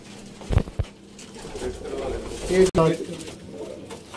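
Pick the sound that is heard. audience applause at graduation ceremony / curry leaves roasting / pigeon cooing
pigeon cooing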